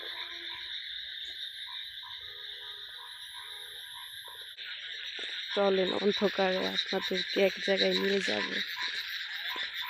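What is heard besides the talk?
frogs croaking and crickets chirping at night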